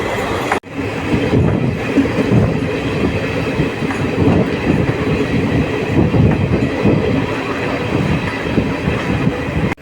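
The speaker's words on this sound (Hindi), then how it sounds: "जेठियन स्टेशन को पार करते हुए हमारा ये तिलैया फारे स्पेशल ट्रेन।" Rajgir to Tilaiya special passenger train runs past Jethian station, filling the scene with a loud, steady rumble of wheels on rails, rhythmic clatter and occasional metallic squeals, heard from on board without speech.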